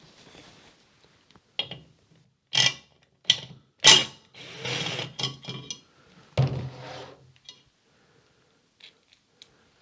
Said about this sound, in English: We're going to take the one 10mm bolt out and remove the governor weight assembly.